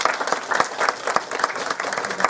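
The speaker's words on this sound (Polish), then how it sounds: "Oklaski dla Państwa." An audience claps after a film screening, with rhythmic steady applause filling the room and a few louder hand claps standing out throughout.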